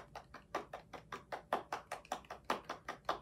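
Two fingers tapping together in a steady, light patter that mimics soft rain, each tap crisp and distinct at a quick even rhythm, fairly quiet and close with no voices.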